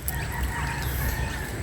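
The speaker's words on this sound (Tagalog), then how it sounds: "mga manok," Farmyard chickens among goats and pet dogs near a mango grove, clucking with a short crow on top of a steady background.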